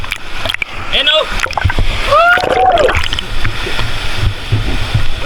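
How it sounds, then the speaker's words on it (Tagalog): Strong sea waves surge and splash near a cave on Siargao, a continuous loud wash of churning water close by, with voices talking over it. "Napakalakas na ng alon pero all good pa rin."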